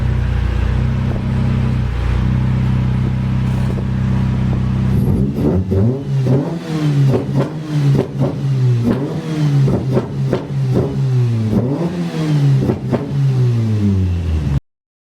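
A used car with a heavy smoking problem idles steadily, then its engine revs in a rapid series of surging bursts, loud and close, before cutting off abruptly.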